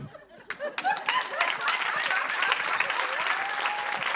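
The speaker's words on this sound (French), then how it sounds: "Vous pouvez encore applaudir Aurélie et Luna." An audience at a live talk event breaks into applause that swells from scattered claps into dense, sustained clapping, with some voices and light laughter mixed in.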